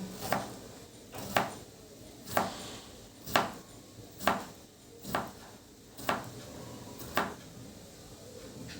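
A knife chops through lemon slices, nine or so crisp, evenly spaced cuts about one per second, fairly quiet and close, with no voices over them.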